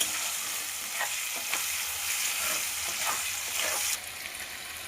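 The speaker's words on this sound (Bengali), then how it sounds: "পেঁয়াজ কুচিটা লাল করে" Chopped onions sizzle steadily in a pan for an egg and cauliflower curry, with a few scraping stirs breaking through the hiss; the broadband crackle drops slightly toward the end.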